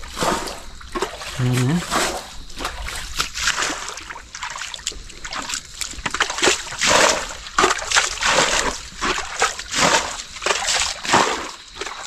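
Repeated splashes and sloshing of water bailed out by hand from a village pond to catch fish, in a rhythmic scooping pattern, with people talking throughout.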